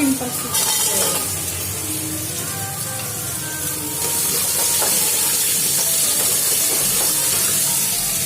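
Chopped ami tipped into a hot pan of cooked cumin, onion and fennel sets off a steady, close sizzle and hiss that swells and carries on throughout, with faint voices in the background.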